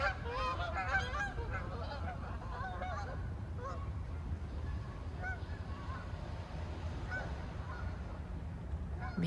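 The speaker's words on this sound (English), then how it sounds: "the sound of birds if you're outdoors" Geese honk repeatedly outdoors at Deer Lake in Vancouver, their calls fairly distant and overlapping over a steady low rumble of ambient background noise throughout.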